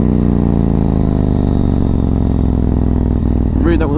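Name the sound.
Yamaha MT-01 motorcycle engine kept at high revs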